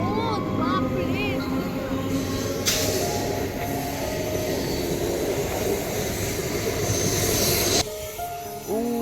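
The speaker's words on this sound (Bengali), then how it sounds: "আবার ট্রেন এসেছে একটা" A train rumbles loudly past near a station, its steady roar and rolling wagons filling the scene, with voices talking over it.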